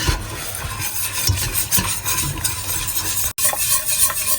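A whisk stirs flour into milk for a homemade mac and cheese sauce, making a steady scraping, swishing rhythm against the pan, close and continuous with a brief pause near the end, and no talking.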